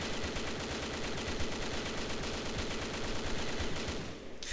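An AK-12 rifle fires full auto in a video game, a steady unbroken stream of rapid shots lasting about four seconds at moderate level before cutting off.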